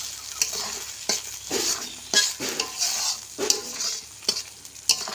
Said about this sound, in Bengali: এটাকে এখন এভাবে আমি নাড়তে নাড়তে রান্নাটা করে নিই